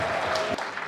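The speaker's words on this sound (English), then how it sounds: "Please let's give them a round of applause." Audience applause at an evening motivational event, a dense wash of clapping from a crowd that holds steady and then thins slightly toward the end.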